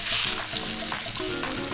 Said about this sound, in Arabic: تعال نقلب السمك